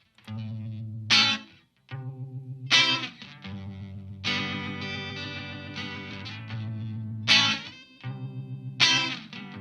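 Clean, dry acoustic-toned guitar chords from a piezo pickup through a Uni-Vibe pedal, strummed with a rhythmic, pulsing wah-like sweep, punctuated by sharp percussive slaps, grooving along alone.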